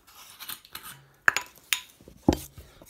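A bottle of rum being opened for a rum and grenadine cocktail: a few sharp clicks and scraping knocks of glass and cap, close and fairly loud, spaced over a couple of seconds with quiet gaps between.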